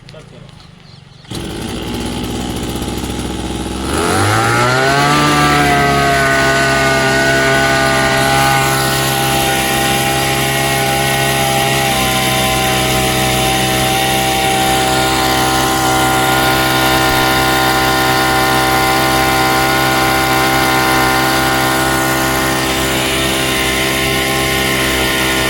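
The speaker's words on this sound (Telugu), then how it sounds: "ఇంజన్ మార్చిన తర్వాత స్టార్టింగ్ చేసి చూపిస్తున్నాను." A reconditioned Japanese Hi Start (Kiortz) agricultural engine cranks up and settles into a loud, steady, buzzing idle that runs continuously for over twenty seconds, close to the listener.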